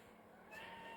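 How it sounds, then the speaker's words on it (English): A pet cat lets out a single drawn-out meow that starts halfway through and holds steady to the end, fairly faint against a hum of room noise. "you hear meowing"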